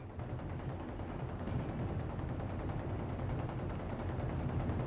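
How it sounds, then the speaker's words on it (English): Battle gunfire in Company of Heroes 2, a dense, steady rattle of distant gunshots and machine-gun bursts running continuously in the background with no voice over it. "You can hear those gunshots still in the background."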